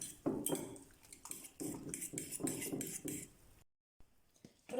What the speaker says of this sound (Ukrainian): Перемішуємо до однорідності.